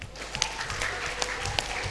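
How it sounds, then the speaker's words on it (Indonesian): Audience at a university law debate grand final gives both teams a brief burst of applause, dense, even clapping filling the room. "marilah sama-sama kita berikan tepuk tangan yang meriah untuk kedua belah tim."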